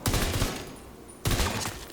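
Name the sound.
rifle gunfire in video game The Division 2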